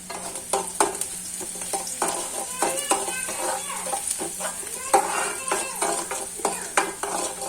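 Onions and a tomato fry in a pan with a steady sizzle, punctuated by repeated spatula scrapes and clinks as they are stirred, close up and without talk.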